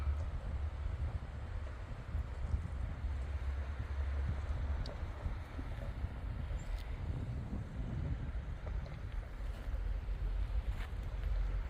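Steady wind blowing at a mountain viewpoint facing Mount Adams, a low continuous rumble buffeting the microphone with no talk.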